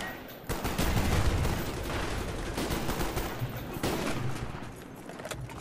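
Rapid bursts of automatic gunfire crackle loudly and nearly nonstop in Call of Duty: Black Ops multiplayer, with no talk over them.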